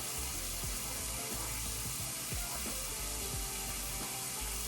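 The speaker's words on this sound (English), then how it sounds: "let me just turn the water on" Water runs steadily from a tap into a sink, a continuous close hiss and splash with small irregular drips and clatters.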